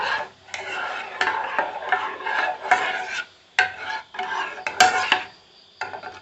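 Mango pulp and milk pudding mixture being stirred in a pan, giving a steady run of scraping, clinking strokes against the metal with short pauses between them.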